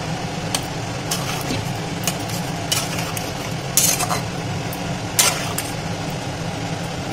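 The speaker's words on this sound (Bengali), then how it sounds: "এবার একটু হালকা হাতে নেড়ে দেবো।" Paneer and potato curry being stirred gently in a pot, with sporadic light scraping and clinks of a spoon against the pot over a steady low background hum.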